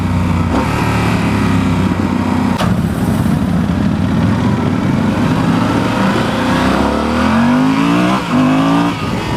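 A 2016 Yamaha Super Tenere XT1200Z parallel-twin motorcycle revs hard and loud, its engine pitch climbing and shifting through gears for several seconds, close up and continuous with no voices.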